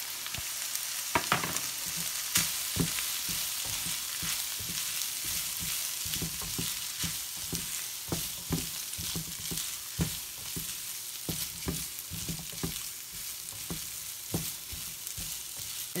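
Cooked rice stir-fried with vegetables in a hot pan for egg fried rice, a steady loud sizzle under repeated scraping and tossing knocks of a spatula, close up and continuous throughout, with no voices.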